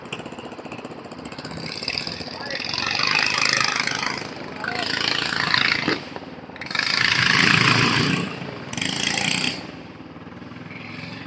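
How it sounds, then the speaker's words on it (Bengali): Boat engines on the Sangu river rise and fall as boats pass, several loud, rough motor bursts surging and fading one after another. "কিভাবে নৌকাগুলো পার হয়ে যাচ্ছে।"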